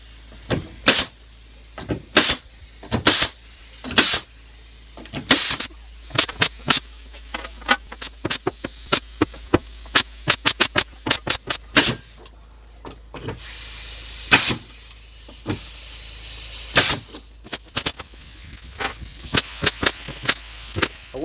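A pneumatic staple gun fires staples into wood, sharp loud snapping bursts with hissy air releases, dozens of shots in irregular clusters, some rapid-fire, close by with no talking.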